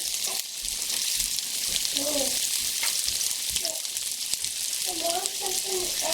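Steady loud sizzling of keto-style Maltese cauliflower fritters frying in oil in a pan, continuous crackle close up, with a voice speaking briefly over it at moments.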